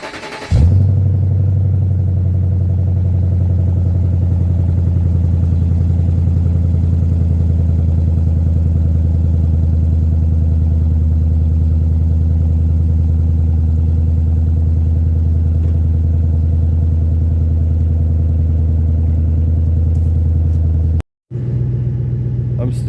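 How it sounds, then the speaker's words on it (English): A Ford Super Duty pickup truck's engine idles with its exhaust rumbling, a loud, deep and steady drone that runs nearly unbroken for about twenty seconds before a short cut near the end. "I'm still liking the way the exhaust sounds."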